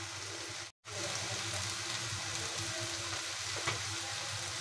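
Ground spices for egg curry fry in oil in a pan with a steady, close crackling sizzle, briefly cut off once, then continuing with light stirring sounds.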